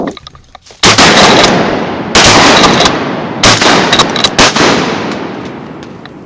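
Shotgun blasts ring out during a duck hunt, three or four loud, close booms with long decaying echoes, the last ones coming in a quick pair.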